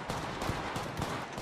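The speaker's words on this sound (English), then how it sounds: "Opening fire." Rapid automatic gunfire from the Apex Legends Mobile shooter game, a dense continuous burst of shots at a steady fast rhythm, loud and close with no talk over it.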